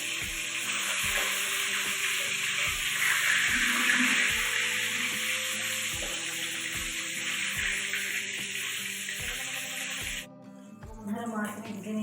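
Rui fish frying in hot oil, a steady broad sizzle holding for about ten seconds with faint rhythmic taps under it, then cutting off into quieter kitchen clatter near the end.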